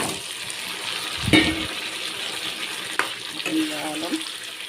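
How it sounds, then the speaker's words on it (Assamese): Large pieces of broiler chicken fry in spiced oil, producing a continuous hissing sizzle broken by a few louder scraping and stirring bursts from a spoon in the pan. "অলপ ভাজি ল'ম মই মাংসখিনি"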